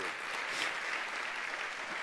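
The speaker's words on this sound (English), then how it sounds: "So maybe we could just give them a round of applause for the work they" Audience applause at a business talk fills the hall, a steady dense wash of clapping from many hands, moderately loud and sustained with no voices over it.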